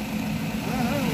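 A 2020 Ravon car with a 1.5 engine idles close by, a steady low rumble with a faint mechanical whine and a little crowd noise from a car market around it.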